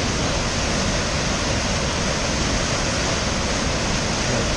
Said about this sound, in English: There is a lot of water going down that hole